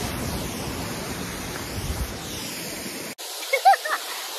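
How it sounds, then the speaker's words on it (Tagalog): Alamere Falls on the California coast: a steady broadband rush of falling water with surf-like wash fills the air for about three seconds, then drops away, leaving a few faint clicks and rustles. "Ganda ng waterfall."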